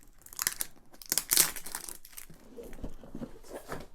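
Plastic bag around the rulebook from a Mage Knight: The Lost Legion board game crinkles and rustles in close, uneven bursts, loudest early on and softer toward the end.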